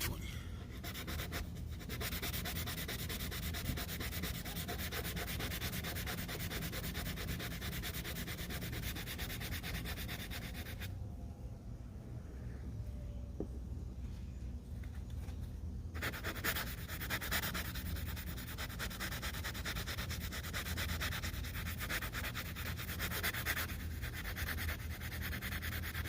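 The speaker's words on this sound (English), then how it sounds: "I believe this is the 1500 side sandpaper" Steady, close rasping of hand sanding with 1500 grit sandpaper runs almost unbroken, with a short quieter gap midway before the scrubbing resumes at full strength.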